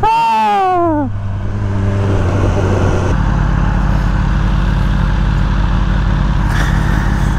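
A BMW M1000 R motorcycle pulling away, a loud close engine whose pitch sweeps upward through rising revs and gear changes, then settles into a steady, heavy drone as it rides off.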